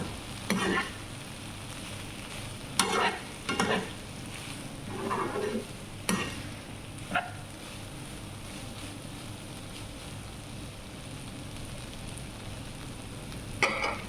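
Vegetable bhaji frying in a pan for an iftar meal, stirred in several brief scraping bursts over a steady low sizzle, with quiet gaps between the stirs.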